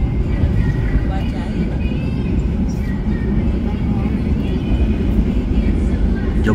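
Joglosemarkerto passenger train passing the Argo Semeru train on the line from Yogyakarta toward Tegal, heard from inside the coach as a continuous loud rumble and rushing roar throughout.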